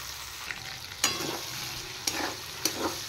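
Tomatoes frying in a pan for aloo dum give a steady close sizzle, broken by a few sharp scraping stirs of a spatula against the pan. No one speaks.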